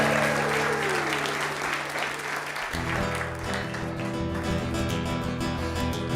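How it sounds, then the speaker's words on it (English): Audience applause at a Purim celebration concert, a dense steady wash of clapping that carries through the clip, with sustained music tones underneath. "Give yourselves a round of applause."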